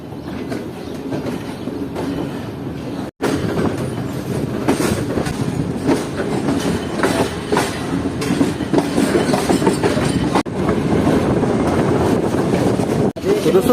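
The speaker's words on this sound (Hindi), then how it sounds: "तो दोस्तों 4:25 पर जो है ट्रेन हमारी पहुंच रही है वज़ीराबाद जंक्शन रेलवे स्टेशन पर" Sir Syed Express passenger train rolling into Wazirabad Junction, a steady loud rumble of rail cars with faint rhythmic wheel clatter running throughout, briefly cut once, with some voices mixed in.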